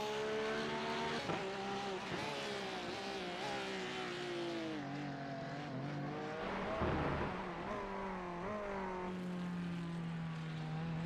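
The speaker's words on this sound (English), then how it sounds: "There's the Porsche for you. The other one was the Ferrari. This sounds a little bit more gnarly than the Ferrari." Porsche GT3 race car engine from the iRacing sim at Laguna Seca, a steady loud snarling drone with rising and falling pitch as gears shift, continuous throughout with no talk.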